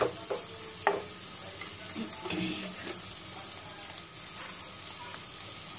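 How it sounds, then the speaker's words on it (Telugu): Onions and curry leaves frying in hot oil, a dense, continuous close sizzle with occasional crackles and stirring clinks, alone. "నూనె పోసుకున్నాక ముందు ఉల్లిపాయలు వేసుకోవాలండి. ఉల్లిపాయలు, కరివేపాకు అండి"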